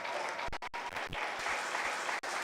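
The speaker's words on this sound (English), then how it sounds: "Let's go ahead and give the viewers a big round of applause" An audience at a 4-H dairy goat show applauds steadily, a dense wash of many hands clapping together that carries on without pause, with no voices rising above it.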